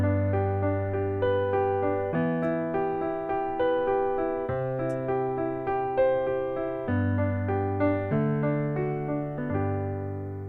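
A piano plays a flowing arpeggio pattern over sustained chords, rolling continuously with steady rhythm and clear, close tone, each chord change marked by fresh low bass notes, alone without talk.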